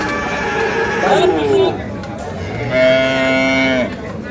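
Sahiwal cattle at a livestock market in Dinajpur give two drawn-out moos, one short and one longer, close and loud over background crowd chatter.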